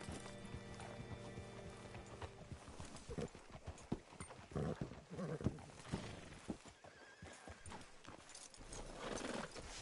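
Horse hooves clip-clop at a walk with a whinny in Red Dead Redemption 2, set against a quiet game soundscape with low ambient tones.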